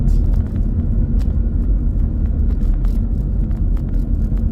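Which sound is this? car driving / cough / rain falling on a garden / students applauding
car driving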